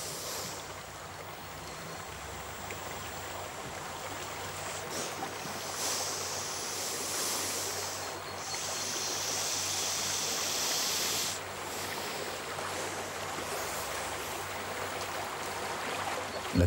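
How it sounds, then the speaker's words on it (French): A strong river current rushes steadily in a desert landscape, a continuous broad wash of flowing water with slight surges and no voices. "La vipère cherche à traverser la rivière, mais le courant est très fort."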